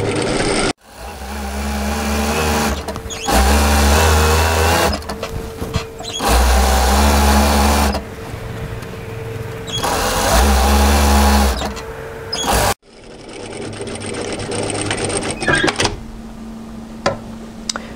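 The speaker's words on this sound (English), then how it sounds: "We're going to sew from the absolute outside edge right the way across." A sewing machine stitches an apron seam from the outer edge straight across, running in close, loud bursts of several seconds each, separated by short pauses, with a final longer run after a brief stop.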